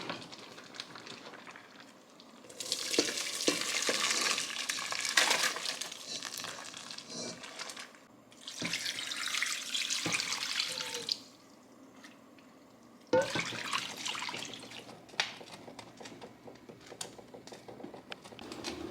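Orange-peel dye liquid for hand-dyeing sock yarn is poured from one pot into another in three long, splashing bursts separated by short pauses, close and fairly loud with no talking.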